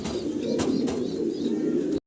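Potter pigeons coo steadily in a farm loft, a low rolling burble up close with a couple of faint clicks, ending abruptly.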